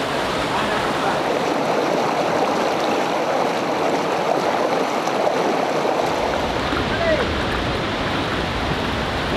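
A strong mountain stream current rushes over rocks on a steep uphill river route in the Philippines, a loud, continuous, dense roar of flowing water throughout.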